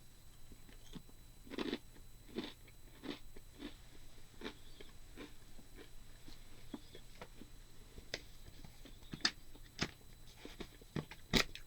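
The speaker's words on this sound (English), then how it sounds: "it's just a super dry cracker." Someone chews a super dry, thin, very crunchy garlic cracker like Melba toast, with close, sharp crunches repeating irregularly over about twelve seconds against quiet background hum.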